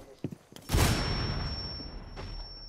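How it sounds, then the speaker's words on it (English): In Rainbow Six Siege, a loud blast erupts suddenly after a few faint clicks, followed by a long rumbling decay, with a steady high electronic tone lingering above it. "What was that explosion behind us?"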